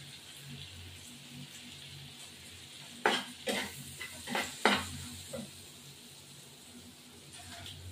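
Hilsa fish frying with turmeric in a pan for a home-cooked jhol, a soft steady sizzle under a few sharp scraping stirs and clinks of a spatula bunched in the middle, close by and moderately loud.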